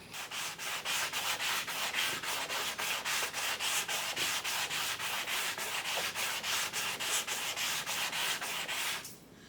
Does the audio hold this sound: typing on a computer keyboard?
no